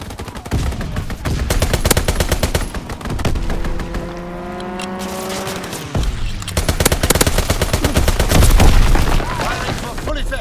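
A strafing run in the Call of Duty: WWII team deathmatch on the Shipment map brings dense, rapid machine-gun fire. An aircraft engine roars through a brief lull before the heavy gunfire resumes.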